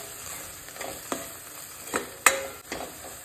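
Garam masala, turmeric, red chili powder and pav bhaji masala stirred in a pan for street-style pav bhaji, a low background hiss broken by a few distinct spoon scrapes and knocks against the pan.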